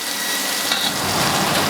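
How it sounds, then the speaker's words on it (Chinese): Cabbage stir-fries in a hot wok with chopped chili, giving a steady hissing sizzle that swells slightly as ingredients are tossed, close and moderately loud. "加剁辣椒进去，给它炒一下啊"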